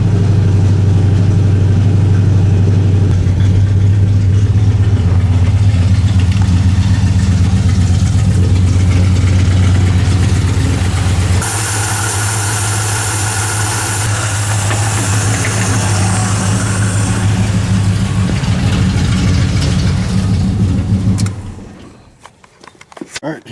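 A turbocharged Chevy truck engine idles while warming up, a loud, steady low rumble that shifts partway through, then cuts off abruptly near the end.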